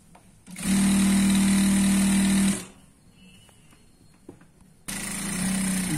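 An electric sewing machine stitching the side seam of a Punjabi dress, running in two loud continuous bursts of rapid whirring with a quiet pause and light handling clicks between them.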